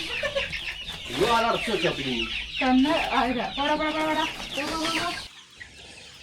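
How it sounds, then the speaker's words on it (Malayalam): Backyard chickens released from their coop cluck and squawk repeatedly at close range, while someone talks over them for most of the time before a brief quieter moment at the end. "അപ്പൊ നമ്മുടെ കോഴിക്കുട്ടന്മാരെല്ലാവരും ഇതേ പുറത്തേക്ക് ഇറക്കി."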